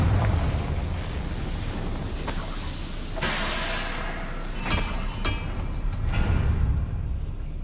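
Blasting spell explosions in the fantasy game Hogwarts Legacy, several bursts of noisy rumbling blast that flare up loud at intervals over a continuous low roar, with no speech.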